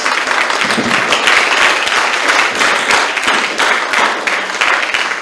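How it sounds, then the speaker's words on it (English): Loud sustained applause from a conference audience at a world congress on quantum biofeedback, dense clapping filling the room steadily throughout with no voices. "So big thank you, and a big round of applause before we get into this one."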